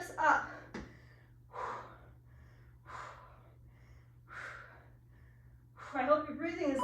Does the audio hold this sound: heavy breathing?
yes